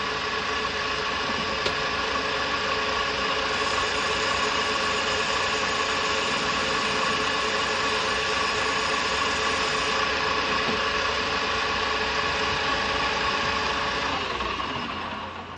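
A machine runs steadily while it machines oil-soaked ACDodd rocker arms, giving a continuous droning hum with a faint whine that winds down at the end.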